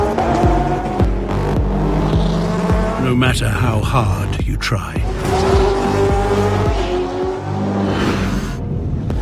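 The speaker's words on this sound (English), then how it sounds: "Ladies and gentlemen, start your engines." Race car engines roar and rev continuously with sharp tire squeals and skidding, loud and dense throughout, while a narrator speaks over the racing noise.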